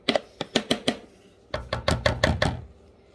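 Chopping food with a Tupperware chopper: two sets of rapid sharp chops, five close knocks, a brief pause, then five more, crisp and near.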